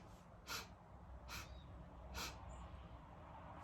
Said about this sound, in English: inhale through the nose 4 equal sniffs like this